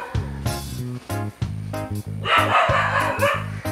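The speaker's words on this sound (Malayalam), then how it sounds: "അപ്പുറത്തെ വീട്ടിലെ പട്ടി കിടന്ന് ഭയങ്കര കുറെ" A neighbour's dog barks repeatedly in a rapid, rhythmic series of sharp woofs from close by at a rural home, with a rush of noise partway through.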